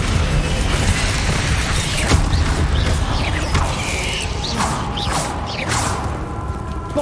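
Descendo spell cast in Hogwarts Legacy, a dense, loud game effect: a continuous magical whoosh with mechanical creaks and heavy rumbling impacts and crashes, sustained throughout and close.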